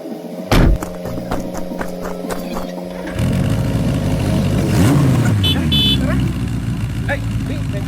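A motorcycle rides up and idles nearby, its engine rumbling loudly and rising in pitch as it arrives, with people talking over it.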